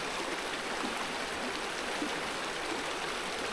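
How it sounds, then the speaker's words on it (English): Small mountain stream in the Cederberg running near a campsite, a steady, soft broadband rush and gurgle of water flowing continuously with no voices. "It's a nice little stream coming out of the mountain."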